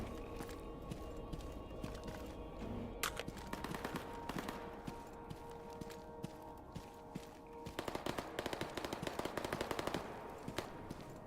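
Gunfire rattles in a video game zone, with rapid bursts of automatic fire and scattered single shots, distant and faint at first, then denser and louder toward the end, with no talk over it.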